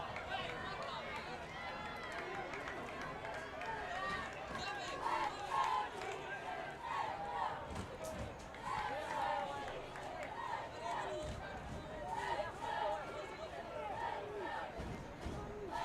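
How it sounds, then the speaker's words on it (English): A varsity high school football crowd at a Bolsa Grande vs. Loara game roars steadily to fire up the defense, a dense continuous wash of cheering and shouting with a commentator's voice over it. "Matador crowd trying to get this defense fired up, trying to get behind them"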